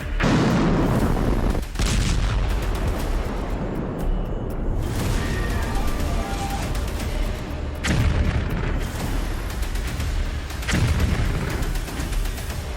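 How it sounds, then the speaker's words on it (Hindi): Missile launch and explosion in the sky during the Russia–Ukraine war: a continuous heavy roar with repeated booming bursts and rumbling blasts, loud and dense throughout. "आसमान में एटमी मिसाइल से धमाका"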